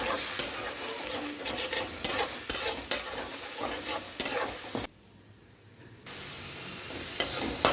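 Onion, ginger and green chili paste frying in a pan, with steady sizzling broken by repeated scraping stir strokes and a brief quiet pause partway through; no talking.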